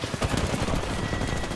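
Gunfire in a survival looting game, a steady dense burst of rapid shots filling the whole short stretch, loud and continuous with no talk over it.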